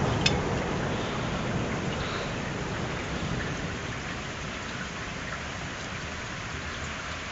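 Torrential rain pours steadily during a thunderstorm, a dense continuous hiss with a faint distant rumble of thunder underneath.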